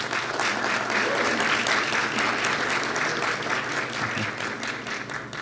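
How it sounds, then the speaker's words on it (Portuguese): Sustained applause fills a council chamber during a solemn session, a dense, steady clapping from the audience that stays loud throughout before easing slightly near the end. "Eu vou pedir a gentileza aos senhores que reservem suas palmas apenas para o final"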